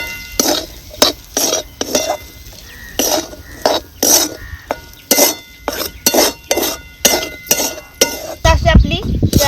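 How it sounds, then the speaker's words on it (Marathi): Crushed peanuts stirred in oil in a wok, giving a steady run of rhythmic scraping strokes with metallic clinks, close and fairly loud, ending in a heavier clatter. "आता ही चांगला असं आपल्याला परतून घ्यायचं आहे"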